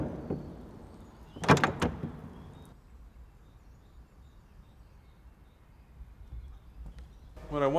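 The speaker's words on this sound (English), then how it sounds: "when I was dropping the door handle, I would wait and allow the sound to ring out completely" A metal door handle drops onto a hard surface in a silent room during foley recording, giving a cluster of sharp clanks that ring out and fade within about a second, followed by long quiet and a brief voice at the end.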